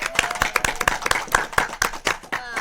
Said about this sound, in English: Let's give the applause to